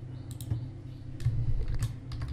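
Computer keyboard typing in short bursts of clicky keystrokes, close and moderately loud, with a brief pause near the middle before another run of quick taps.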